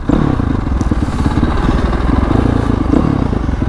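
A Honda CRF450 dirt bike engine revs hard and continuously, a loud, rough, buzzing roar held close up for several seconds.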